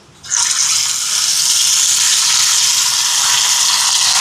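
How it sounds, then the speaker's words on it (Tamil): Loud, continuous sizzling of fish frying in hot oil, starting abruptly and holding steady throughout. "அதில் எண்ணெய் சூடாயிட்டு மீனை பொரிக்க போடுவோம்"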